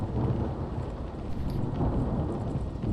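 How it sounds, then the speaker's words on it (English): Thunderstorm in the FSX flight simulator, heard from inside a Carenado Cessna 208B at night: a steady, loud low rumble of thunder and rain with no distinct claps, continuous throughout and alone. "Wow, that storm is really kicking up out there."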